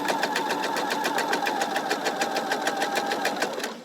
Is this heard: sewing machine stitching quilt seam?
yes